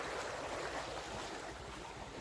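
Water runs through a small canal beside a large peepal tree in a steady, faint, hissing wash that carries on without pause and without voices.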